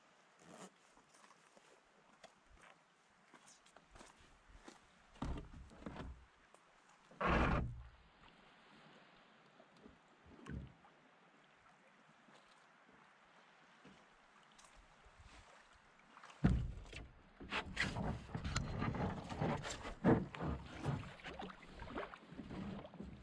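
Canoe paddling on a backcountry lake in Algonquin Park, with scattered soft paddle strokes and water splashes and quiet stretches between, then a denser burst of splashing and knocking near the end, faint and close with light wind.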